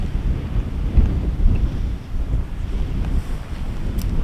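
Wind buffets a microphone at a high alpine camp in the New Zealand Alps, a loud, low rumbling roar that swells and eases in gusts, with no voices.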